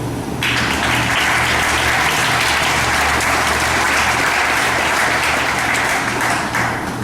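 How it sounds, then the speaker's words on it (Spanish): Sustained applause from a church congregation fills the space, steady and full with no single voice standing out over it. "Aplausos."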